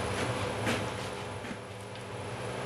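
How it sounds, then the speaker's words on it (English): A DIY CNC router cutting its first workpiece under programmed control makes a dense, steady roaring grind with faint rattling, loud and continuous throughout, with no voices. "First workpiece cuts."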